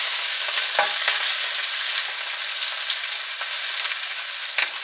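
Onion frying in a wok gives a steady, loud, dense sizzle, with a few scraping stirs of the utensil breaking through the hiss.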